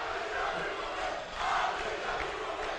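Rowdy crowd noise fills a women's college basketball gym as Salt Lake Community College plays Snow College, a steady wash of cheering and shouting that swells briefly near the middle before settling back.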